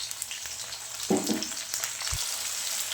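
Prawns fry in mustard oil with onion and green chili, a close, steady sizzle with a brief stirring clatter and one low thump partway through.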